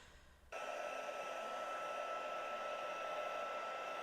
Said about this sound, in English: So I've dried that off with the heat gun just to speed things up.